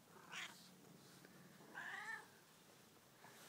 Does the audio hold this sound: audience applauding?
no